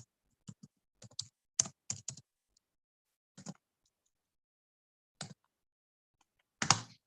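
Keystrokes on a computer keyboard while HTML code is entered, sparse clusters of crisp close clicks separated by pauses, with one louder burst near the end and no talk.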